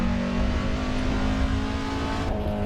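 A Honda Acty kei truck's small engine drones steadily at high revs in one gear while climbing Pikes Peak in the Assetto Corsa racing game, a continuous loud buzzing hum with no speech.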